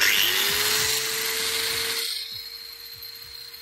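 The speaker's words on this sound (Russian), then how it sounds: "аккуратненько пилим, делаем ровный срез болгаркой." An angle grinder whines steadily at a high pitch with harsh broadband grinding noise while cutting a metal tube, then the cutting noise drops away leaving the motor humming alone.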